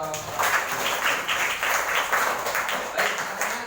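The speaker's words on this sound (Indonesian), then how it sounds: "Tepuk tangan dong." A classroom of students claps in applause, a brisk patter of many hands close by, lasting the whole stretch at moderate loudness.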